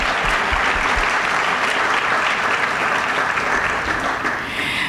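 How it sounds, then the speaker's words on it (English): At a community awards event, the audience applauds board members as they stand, a loud, sustained burst of many hands clapping that stays steady and only eases slightly near the end. "Let's give them a round of applause."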